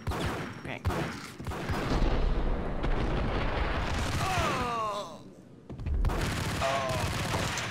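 Dense, rumbling Ingram submachine gunfire in the Max Payne video game, loud and sustained with a brief lull, mixed with game effects and a voice cutting in.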